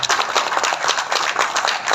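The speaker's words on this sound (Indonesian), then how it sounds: "Tepuk tanganlah dulu, pasti." An audience at a village website launch event breaks into brisk, dense applause, many hands clapping fast and steadily at close range with no talk over it.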